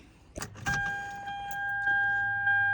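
A couple of clicks, then a car engine, just fitted with a new battery, catches and settles into a steady whirring idle, close by.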